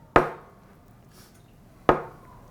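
A jukbi bamboo clapper struck twice, each a sharp woody clack with a short ringing decay, about two seconds apart in a quiet room.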